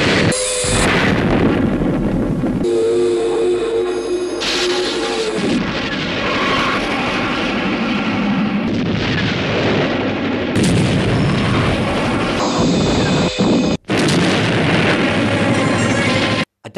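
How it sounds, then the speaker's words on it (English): Loud, dense rumbling blasts and roaring bursts from special-effects explosions for a 1969 TV series, several heavy booms one after another with abrupt cuts between them. "I don't think with explosions we ever really knew what was going to happen."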